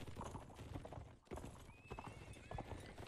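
Horse hooves in the video game Mount and Blade Warband clop steadily at a brisk pace, fairly close, with a brief neigh-like squeal rising partway through.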